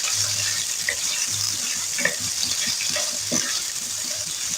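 Three medium onions, thinly sliced, frying on a medium flame for Sindhi Hyderabadi chana pulao, giving a steady hiss and sizzle with occasional crackles and spoon stirs, no talking.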